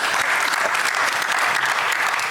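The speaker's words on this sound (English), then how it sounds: "I need those claps as well" Audience applause fills a session at the ICASA 2025 conference, a dense, steady clapping from a crowd that holds at an even level throughout without any voices over it.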